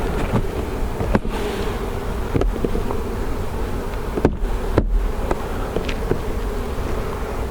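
Honey bees buzzing around an open hive during a varroa mite check, a loud, steady swarm drone up close, broken by several sharp clicks and knocks from handling the hive equipment.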